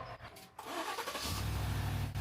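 A GMC Yukon's engine cranks and catches after being boosted with a portable jump starter, settling into a steady, loud close-up idle after a brief churn.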